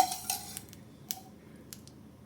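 A small metal pan is set on a stove to heat ghee for sweet pongal, giving a few faint, light metallic clinks and taps spaced apart in a quiet kitchen.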